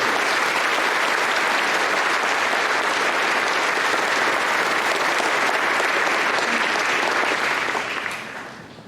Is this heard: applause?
yes